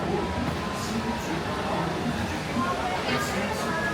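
The Walt Disney World Railroad steam train at Magic Kingdom rolls along with a steady, dense rumble and rattle of cars on track, heard from aboard with a faint background of chatter.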